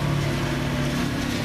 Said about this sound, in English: You might hear that tractor running in the background.